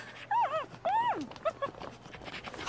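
A dog whimpers in a few drawn-out, rising and falling whines close by, with short pauses between them and quieter yelps near the end against a faint background.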